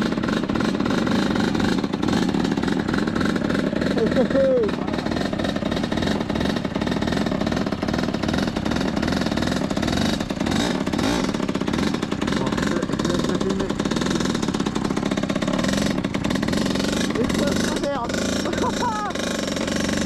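A motorized bicycle engine runs with a continuous buzzing drone throughout, loud and close, while people talk over it.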